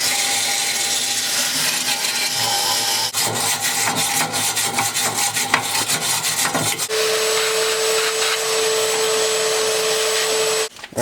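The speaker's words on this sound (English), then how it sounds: "Trying to get rid of that rust, trying to clean it up a bit." A rusty battery tray from a Dodge Viper is scrubbed by hand, giving a continuous rough rasping that runs without a break, with a steady tone appearing in the background partway through.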